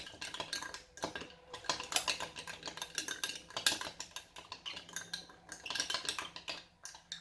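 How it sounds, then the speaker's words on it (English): A utensil clinks and scrapes rapidly against the inside of a cup in bursts of quick whisking, fairly quiet and close. "So you want to just give it a nice lovely whisk like this."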